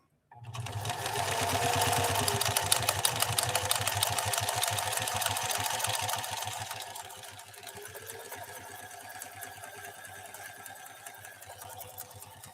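A Pfaff 332 sewing machine stitching a zigzag pattern, a rapid steady needle chatter and motor whir that runs loud for several seconds, then eases to a softer, slower stitching hum.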